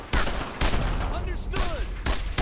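Heavy gunfire from an MG42 machine gun in the World War II shooter Brothers in Arms, loud bursts of fusillade in a dense battle mix, with voices calling out orders under the shooting.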